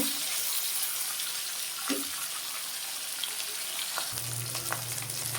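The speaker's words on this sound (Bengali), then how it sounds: "মাছগুলো আমি উল্টে দিচ্ছি।" Shing fish (stinging catfish) sizzle steadily in hot oil in a pan, with a scrape and clatter as the pieces are turned and a low hum entering near the end.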